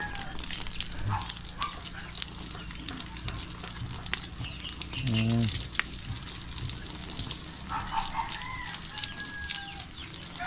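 Chickens cluck and squawk nearby in scattered bursts, with one louder call in the middle against a steady outdoor background.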